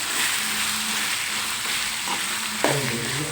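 Boiled, mashed potatoes stirred into hot oil in a pan for a potato stir-fry, giving a steady close sizzle with a spatula scraping through, a brief clunk near the end and no voices.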